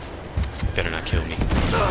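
Rapid gunfire in the video game Uncharted 2: Among Thieves, a quick burst of loud overlapping shots and booms across two seconds, with a voice partly mixed underneath.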